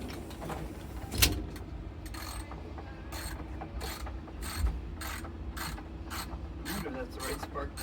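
A socket ratchet works on the spark plug of a Homelite UT08572 blower, giving a run of evenly spaced clicking bursts close by with a couple of sharper knocks between them.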